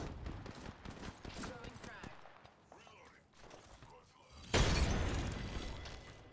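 A frag grenade explodes in the Apex Legends video game, a loud, broad blast that follows scattered gunfire and callouts and rumbles on for a couple of seconds.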